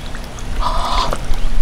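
Ducks on a pond give a single nasal quacking call in the middle, fairly close, over steady outdoor background noise.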